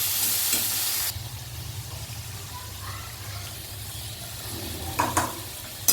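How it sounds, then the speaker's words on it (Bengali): Spice paste (masala) frying in a pan with a little water added, giving a soft steady sizzle and hiss with faint scraping of a spoon as it is stirred; a louder bright burst opens, then quieter continuous cooking with a couple of clinks. "এবারে আবারও প্রায় পাঁচ মিনিট মতো এই মশলাটা কিন্তু আমি কষবো"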